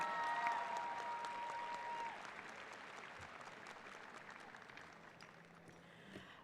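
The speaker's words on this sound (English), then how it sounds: "Please join me in giving a round of applause to all the medallion recipients." Audience applause for medallion recipients at a college commencement ceremony, a broad steady wash of many hands clapping at moderate distance that gradually thins toward the end.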